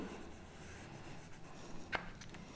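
A pen scratches across paper while a formal letter is being written, soft, close and continuous, with one brief sharper stroke near the end.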